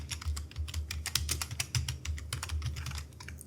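Steady, rapid typing on a computer keyboard, with close, crisp key clicks in an even rhythm and no voices.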